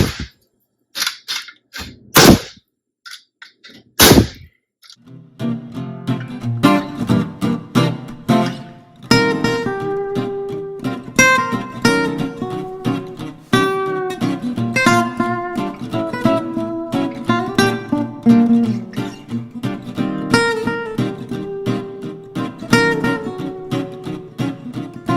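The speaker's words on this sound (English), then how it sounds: "We've got our pneumatic gun right here, our pneumatic air nailer, framing nailer." A pneumatic framing nailer fires repeatedly into wooden hive body box boards, sharp loud cracks in irregular bursts, with a few isolated shots first and then a busy run of nailing.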